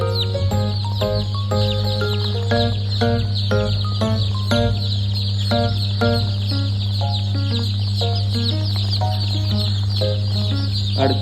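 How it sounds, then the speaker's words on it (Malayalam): A flock of Kaveri laying hens clucks and calls repeatedly up close, with overlapping short squawks over a steady low mechanical hum. "കാവേരി മുട്ടക്കോഴികൾ"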